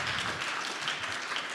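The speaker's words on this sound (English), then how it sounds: "Give a big round of applause" Steady applause from a crowd, a dense wash of clapping heard at a distance without pauses.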